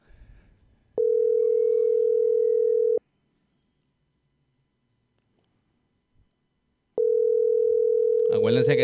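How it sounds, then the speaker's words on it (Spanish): An outgoing phone call over WhatsApp rings back with two long steady tones, each about two seconds, separated by a long silence, loud and clean, with a voice starting right after the second tone. "Vamos a llamar a Bernie, que siempre es una persona que responde siempre."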